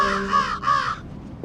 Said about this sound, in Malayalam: ഇപ്പൊ കാക്കയൊക്കെ വന്നു എന്നെ പേടിച്ചു കേട്ടാ